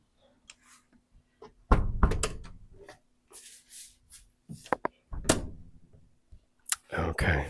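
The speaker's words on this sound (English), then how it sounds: "Let me close the door." A house door is closed at home with a cluster of clicks, knocks and a solid thunk, followed by scattered softer taps and handling noises, close by and quiet between sounds.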